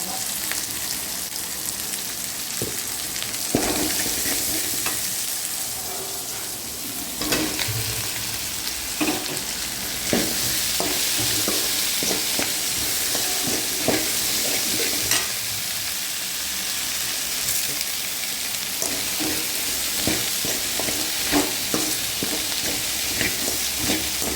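Okra fries in oil with green and dried red chillies, onion and asafoetida powder, a constant loud sizzle broken by repeated scraping stirs and clatters of a spoon against the pan.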